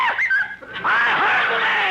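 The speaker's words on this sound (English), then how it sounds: "that parrot sure gets on my nerves shooting off his mouth" Parrot squawking in an old-time radio comedy scene, harsh rising and falling screeches up close, partly sounding like a voice performing the bird's cries.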